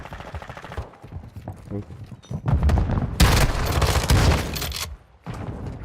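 Bursts of gunfire and explosive booms from Call of Duty Modern Warfare II, volleys loudest through the middle stretch and then cutting off near the end, with game voices talking underneath.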